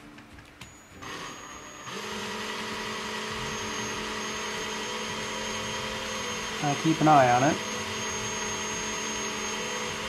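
A drill bit spins steadily into a plastic miniature, a constant close whirring hum that runs through most of the clip, with a brief rising whine near the end and a short spoken remark over it.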